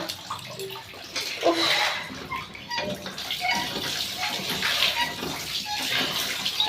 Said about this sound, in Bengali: কড়াটা একটু ধুয়ে নিলাম